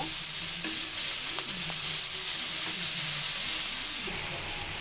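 Kalai greens being stir-fried with fried onion and garlic in a pan, giving a loud, continuous close sizzle and hiss with repeated scraping stirs running throughout.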